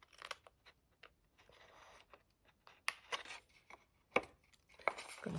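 Scissors snip through decorative craft paper while a small Christmas lantern is cut out, a series of short crisp cuts with quiet pauses between, close and fairly soft.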